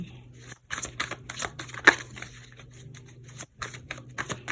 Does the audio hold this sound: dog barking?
no